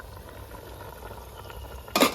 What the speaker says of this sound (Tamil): தலை தலை தலைன்னு கொதிக்குது